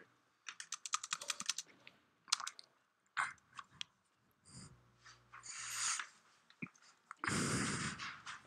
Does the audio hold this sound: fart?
no